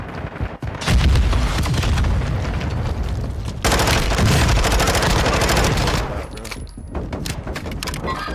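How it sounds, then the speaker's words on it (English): Semtex grenade blast and heavy gunfire in a shooter video game, loud sustained bursts of automatic fire and booming explosions running for several seconds, easing toward the end. "Throwing Semtex!"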